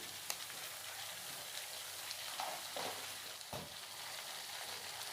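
Spices fry quietly in a pan with salt and turmeric, giving a steady soft sizzle with a few faint stirring scrapes and no voices.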